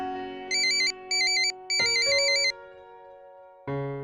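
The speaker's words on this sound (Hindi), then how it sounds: "एक मिनट, हाँ घर से फोन है भाई।" A mobile phone ringtone plays a bright electronic melody in three short bursts over a steady sustained tone, loud and clear with no talking, then starts again at the end.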